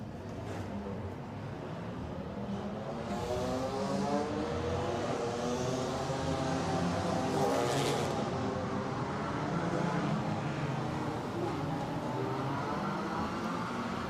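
DTM Trophy race cars rumbling around Imola on the formation lap, a steady moderate engine drone with slowly shifting tones, no voices over it.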